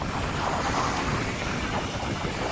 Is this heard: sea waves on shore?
yes